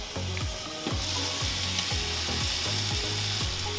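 Bacon wrapped chicken on a Weber Baby Q grill gives a steady, close sizzle and frying hiss with faint scraping, continuous throughout, and no talk.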